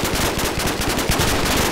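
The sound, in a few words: gunfire in Minecraft Flans Mod video game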